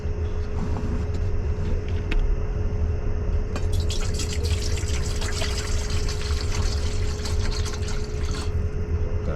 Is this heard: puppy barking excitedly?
no